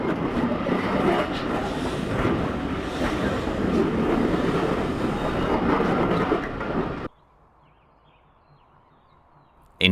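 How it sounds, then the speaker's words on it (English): Steam locomotive 3440 City of Truro, the record-breaking engine, pulls into Kingswear station beside the River Dart with a loud, steady rumble and rattle that ends abruptly partway through, leaving faint quiet ambience. "the train triumphantly arrives in Kingswear"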